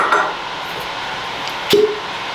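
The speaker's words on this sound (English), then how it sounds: "good cork pop there" A cork pulled from a bottle of single-barrel-pick whiskey gives one short, sharp pop near the end, close and fairly loud, after a brief faint clink of glass at the start.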